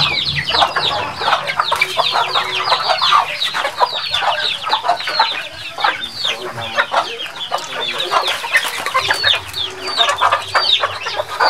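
A flock of chickens on a farm clucking and squawking continuously, many overlapping calls close by forming a busy, lively chorus, with a possible rooster crow mixed in.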